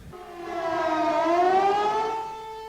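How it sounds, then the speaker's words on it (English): A civil defense air raid warning siren wails during the 1991 Gulf War, a single rising and falling tone with a strong sustained pitch that swells to loud, then fades, heard alone without speech. "People strained to hear their leader through yet another air raid warning."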